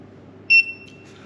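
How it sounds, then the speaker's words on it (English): A 12V/240V KickAss vacuum food sealer gives one short, clear electronic beep when it finishes sealing, a steady two-tone chirp standing alone over a low mechanical hum. "wait until hear a beep, and the light will be on where it says vacuum seal"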